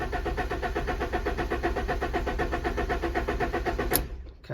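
A low-mileage Fiat Barchetta's engine cranks without fuel, the starter churning in a steady rapid rhythm for about four seconds without catching, then stopping abruptly with a brief high click.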